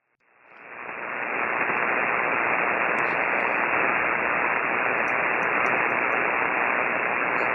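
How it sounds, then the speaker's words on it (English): Steady, loud broadband static from a shortwave radio tuned to a weak signal in the 7 MHz band, swelling up over the first second and then holding as an unbroken hiss with faint chirps of interference above it. "He's got a lot of static."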